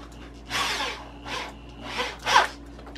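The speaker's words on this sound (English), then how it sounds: "I've got this drill so I don't have to keep switching." A handheld power drill driving into wood during construction of a larger bird flight cage, with three or four short bursts of whirring separated by brief pauses, fairly close.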